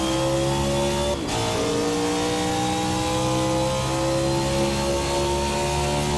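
Race car engine in a racing sim, the Race Sim Studio Hyperion 2020, screaming at high revs with a brief dip near the start before it climbs and holds a loud, steady wail alone.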